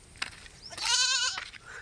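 A single sheep in a flock gives one clear, close bleat lasting about half a second, with faint background noise around it.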